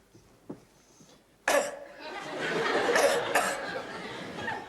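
A single sharp cough bursts out close by after a quiet moment, followed by noisy rustling and muffled movement.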